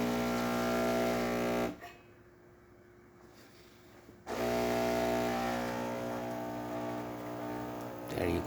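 A Saeco espresso machine pumps out a steady stream with a loud, continuous pump hum that drops away briefly midway, then resumes just as strongly.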